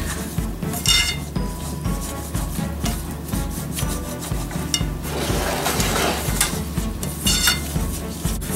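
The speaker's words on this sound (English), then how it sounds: "My butter is melted. I'm going to add in this flour. Give it a good whisk." A whisk scrapes and clatters briskly against a pan as flour is worked into melted butter over medium heat, a close, rhythmic rubbing with metallic ticks and no talking.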